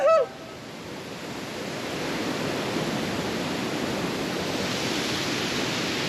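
At the foot of Strawberry Bay Falls on Third Beach, falling water makes a broad steady hiss that swells slightly after a brief sharp sound at the start, then holds even and close.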